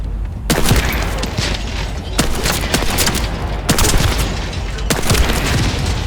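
A pistol in The First Descendant video game fires in loud, sharp cracks grouped into short bursts roughly every second or so, each shot echoing briefly over a low game ambience.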